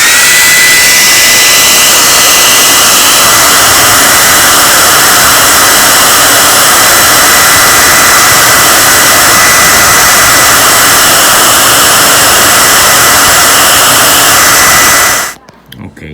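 A heat gun blows steadily and loudly onto heat shrink tubing over a soldered joint while a DB9 connector is being wired. The constant rushing roar runs for about fifteen seconds, then cuts off abruptly.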